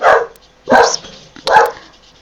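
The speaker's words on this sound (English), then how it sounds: "Oh, for goodness sake, dogs," Dogs bark indoors in three close, loud bursts at a steady rhythm, with no talking over them.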